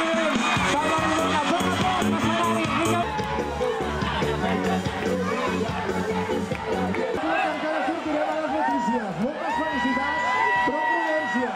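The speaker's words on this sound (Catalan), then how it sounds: "Un fort aplaudiment" A carnival crowd at a prize ceremony applauds and cheers the winners, a dense sustained roar of clapping, whoops and babble with music-like tones underneath, loud and continuous throughout.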